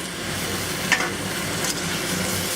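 Oyster sauce chicken and gai lan cook under a lid in a wok, a constant hissing sizzle with a couple of brief clatters, moderately loud and with no voices.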